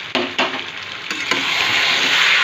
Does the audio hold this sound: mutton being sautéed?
yes